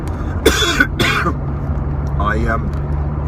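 A couple of harsh, close coughs from dehydration in quick succession, followed by a softer throat sound over a low rumbling background hum.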